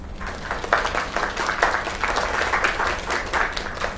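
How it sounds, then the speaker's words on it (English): An audience applauds steadily, with many hands clapping in a dense, sustained wash that stays even throughout and has no talk over it. "Another round of applause."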